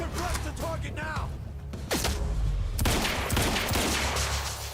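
Rapid bursts of gunfire from the Quantum Break video game, several volleys in quick succession among game sound effects and music, with a voice speaking over them.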